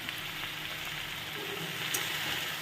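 Jute leaves (pat shak) dropped into hot oil fry with a steady, dense hiss that fills the whole moment, close and fairly constant, with a faint stir or crackle near the end and no talk.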